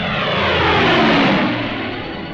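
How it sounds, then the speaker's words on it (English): Military propeller planes of the Second World War taking off from a dry airfield in Tunisia, a loud, sustained engine roar that swells and then eases slightly, heard alone without voices. "Whenever the fields were dry enough, our planes took off to tackle the Luftwaffe."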